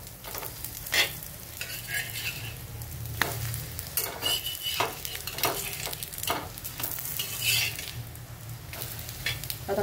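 Rolled alu vadi, made from taro leaves, sizzles gently as it pan-fries in a little oil, with soft scraping and turning sounds from a utensil against the pan and no talking.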